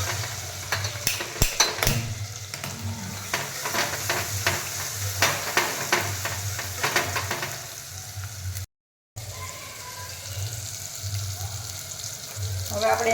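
Cumin, asafoetida, turmeric, tomato and curry leaves fry in hot oil in a home kitchen, a steady close sizzle with stirring scrapes and clinks throughout, briefly cutting out before resuming.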